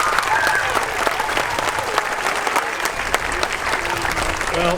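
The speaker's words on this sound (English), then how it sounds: "Can we give a round of applause to our MCs?" Audience at an elementary school May Day program applauding the MCs, steady dense clapping from a large crowd that fills the whole stretch at even loudness.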